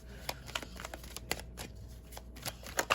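Tarot cards shuffled by hand in a run of crisp riffling flicks and soft slaps, several sharp bursts clustered near the end, close and fairly quiet with no talking.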